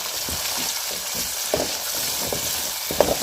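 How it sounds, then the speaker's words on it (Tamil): Chopped tomatoes and green chilies sautéing in a pan, a steady close sizzle with soft scraping stirs and a couple of sharper utensil knocks against the pan. "இதையும் சேர்த்துக்கிட்டு இதையும் நல்லா வதக்கிக்கணும்"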